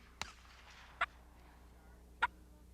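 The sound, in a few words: person imitating turkey calls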